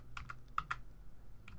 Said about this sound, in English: I'll just use my arrow keys, the cursor keys on the keyboard